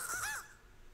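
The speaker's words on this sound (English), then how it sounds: "Fuck you, birds." Crows caw in Luigi's Mansion 3, two or three harsh, falling calls packed into under a second, close and loud, then fading to quiet.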